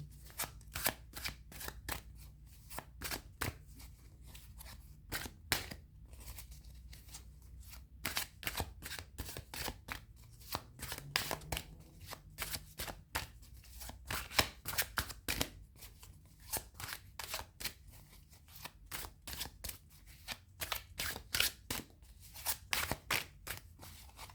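Repeated crisp riffling and slapping of thick tarot cards being shuffled, in irregular bursts throughout, close up with no talking.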